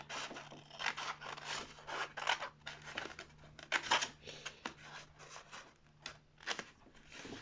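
Scissors cutting paper along drawn lines for an art-club craft, a steady run of close, crisp snipping and rasping strokes in irregular bursts, with no talk.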